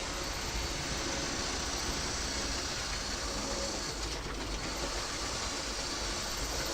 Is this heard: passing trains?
yes